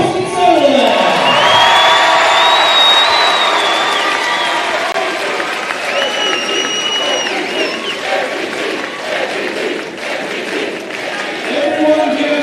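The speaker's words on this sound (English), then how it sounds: "Everyone give these fellows a huge round of applause." Loud applause from a large crowd at a district basketball championship, with cheers and whoops, sustained clapping that gradually eases while voices carry over it.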